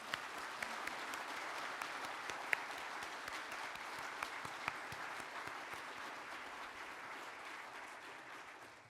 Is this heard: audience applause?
yes